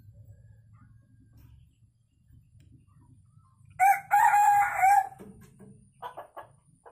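A wild junglefowl caged in the morning gives one loud, close crow of about a second, followed by a few softer clucks, over a low hum of background noise.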